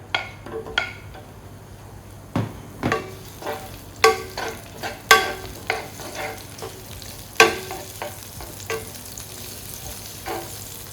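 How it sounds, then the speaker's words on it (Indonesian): Onion and garlic sautéing in a pan, a constant low sizzle broken by repeated sharp scrapes and clinks of a spatula stirring at an uneven rhythm. "kita bakal tumis si bawang bombay-nya dan bawang putihnya"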